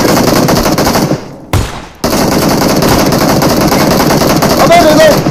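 Dense, loud shotgun and automatic gunfire in a video game fills the clip, with a brief near-silent gap, then the firing resumes steadily under a player's talk.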